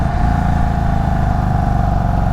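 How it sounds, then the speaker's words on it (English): Indian Chief Bobber Dark Horse motorcycle engine with a heavy flywheel, running loud and close, with a low, throbbing, steady rumble where individual combustion pulses are distinct. "The heavy flywheel and low-revving engine mean that your brain gets time to sense every individual combustion stroke as you crack the throttle."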